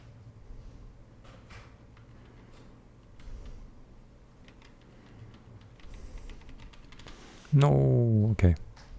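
Computer keyboard typing while coding in Neovim, soft scattered key taps running under quiet background noise, then a brief louder burst of another sound near the end.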